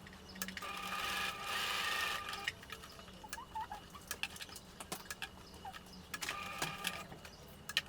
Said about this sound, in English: I'm going to trace the pocket opening again, and actually I'll sew it this time so it won't vanish when I press down.